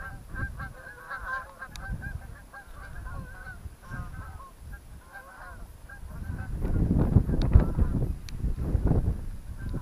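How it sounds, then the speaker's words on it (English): Geese honk repeatedly at a distance on the rocky coast near Eyemouth, a busy chorus of calls, while wind rumble swells and buffets the microphone toward the end. "Geese, I think."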